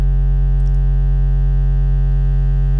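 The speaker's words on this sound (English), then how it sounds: "So this is going to cause a nasty buzz at all volume levels" A loud, steady, harsh electronic buzz from waveshaping distortion holds at one low pitch throughout, unbroken and alone.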